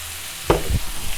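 Chicken pieces frying in a pan give a short burst of sizzling and a brief stirring scrape over a faint steady hiss.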